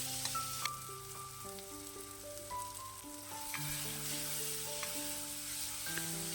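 Tomatoes with salt sauté in a pan, giving a soft, low sizzle underneath gentle background music, with no talking.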